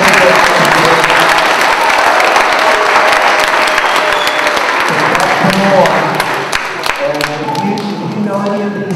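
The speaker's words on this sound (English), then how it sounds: "Give them a round of applause" School assembly audience applauding for students at a mentoring program kick-off, a dense continuous wash of clapping that stays loud throughout, with voices and cheers mixed in.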